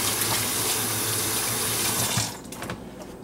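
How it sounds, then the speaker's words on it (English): Hands washed under a running tap give a loud, continuous splash of water that stops suddenly about two seconds in, leaving quieter dripping and handling sounds. "I'm washing my hands here"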